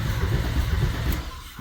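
Porsche engine turning over and catching after the key is turned, a close, loud low rumble that holds steady over a short stretch.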